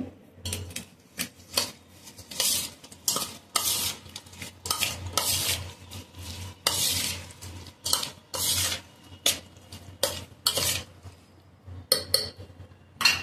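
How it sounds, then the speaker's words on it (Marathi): Spice masala being stirred into a red chilli pickle, with repeated clinks and scrapes of a spoon against a pot or bowl in irregular bursts, fairly close and moderately loud, no talking. "त्यानंतर आपण जे मसाला तयार केलेला आहे तो सुद्धा त्याच्यात टाकूया. मिक्स करून घेऊया."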